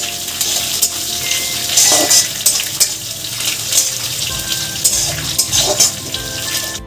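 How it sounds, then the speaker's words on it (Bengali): Curry leaves fry in hot mustard oil for stuffed semolina idli, giving a steady crackling sizzle with bursts of spattering and faint utensil clinks, close and fairly loud, with no voices. "কারি পাতাটাকে দিয়ে ভালো করে এবার ভাজা ভাজা করে নেব।"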